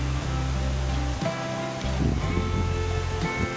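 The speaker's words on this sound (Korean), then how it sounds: "맑은 계곡물 흐르는 소리를 들으면서 단풍을 보니까" Steady rushing water fills the clip, a clear mountain stream at Biseondae in Seoraksan, continuous broadband flow, fairly close and loud, with a brief dip in the middle.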